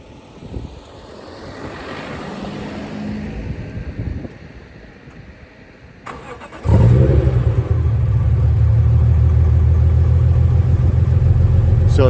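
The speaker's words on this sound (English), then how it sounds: "And so we'll start the engine, have a listen to the engine itself, and then the exhaust." A modified 2003 BMW M3 coupe cranks after a short delay, then its engine catches and settles into a loud, steady idle with a deep rumble, close up and with no talking over it.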